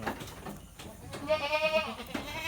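A crossbred Peranakan Etawa goat on a farm gives one wavering, nasal bleat from close by, with faint background noise before and after it.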